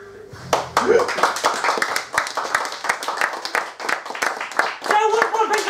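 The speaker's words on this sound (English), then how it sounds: "Thank you very much for your kind claps" Audience clapping at a live comedy night, the Roll-Up Show in Woodford, with sharp scattered claps running through the whole stretch alongside music and voices.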